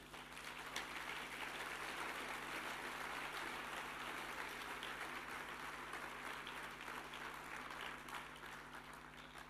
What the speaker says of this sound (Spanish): Dele un gloria a Dios, dele un aplauso